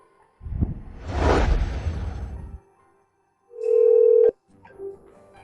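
A telephone rings with a steady electronic tone lasting under a second, following a loud rushing burst, with a short faint tone after it.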